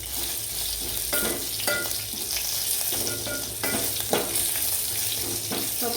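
Cumin, chillies and curry leaves sizzle and crackle steadily in hot tempering oil for kadhi, a continuous close frying hiss with scattered pops and stirring scrapes.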